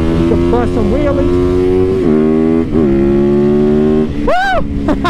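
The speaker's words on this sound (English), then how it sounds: "with a supermoto like this, it's got a ton of bottom end grunt. You can bust some wheelies." A supermoto motorcycle accelerates hard under heavy throttle for a wheelie, its loud close engine climbing in pitch across several rev rises, with a rider's voice breaking in near the end.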